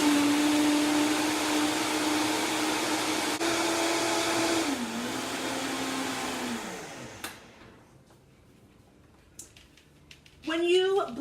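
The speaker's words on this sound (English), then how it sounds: "And then I dump everything into my Vitamix." A Vitamix blender whirs loudly and steadily through fermented hot sauce, dips in pitch partway, then winds down and stops, followed by a short burst of speech.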